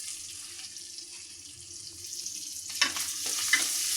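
Tripe frying with ginger and garlic paste, cardamom and cinnamon hisses softly in a pan, then a louder scraping stir and a couple of knocks rise near the end, with no talking.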